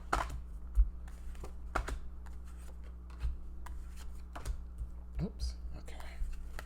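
Tarot cards being shuffled and dealt, with quick papery flicks and soft taps in irregular bursts, and a brief spoken exclamation.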